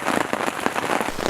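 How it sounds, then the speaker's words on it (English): Heavy rain drums steadily on a tent's rain fly at a campsite in New Zealand, a dense, continuous patter with sharper individual drops popping through. "It's raining pretty hard"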